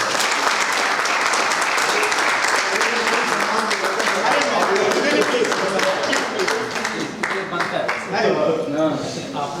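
Dense, loud applause from a convention audience at an industrial conference fills the whole stretch, steady and unbroken, with voices mixed into the crowd noise.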